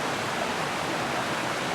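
Water of Great Brook, a small woodland stream, rushes steadily in a dense, even hiss, close and continuous with no pauses.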